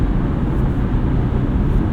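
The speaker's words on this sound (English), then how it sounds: "This is reasonably quiet, not a ton of wind or road noise." Inside a 2024 Subaru Outback Touring XT cruising at speed, a steady low wind and road roar fills the cabin, even and unbroken, with no talking.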